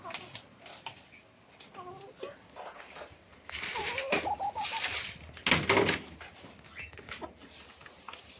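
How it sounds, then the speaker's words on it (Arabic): Chickens cluck and call intermittently in an enclosure, with brief bursts of louder scratching or flapping midway and faint voices in the background. "غريبة الفراخ دي، مع انها عندها 4 صوابع بس مش 5 زي الفراخ العادية."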